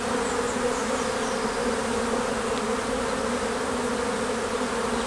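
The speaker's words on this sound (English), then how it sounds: "So the bees are really packing away the pollen and the stores" Honey bees drone steadily in an open hive full of brood and pollen stores during a beekeeping inspection, a dense, even, close-up hum without pause.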